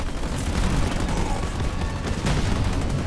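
Dense, continuous gunfire and explosions from a Halo Wars 2 battle, a loud, unbroken barrage of overlapping shots and booms with no pauses.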